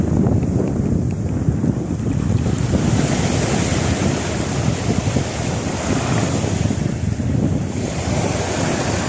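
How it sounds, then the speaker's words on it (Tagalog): Big ocean waves crash and roll steadily onto the shore, a loud continuous wash of surf mixed with strong wind buffeting the microphone. "Malaki yung alon ngayon mga ka-idol."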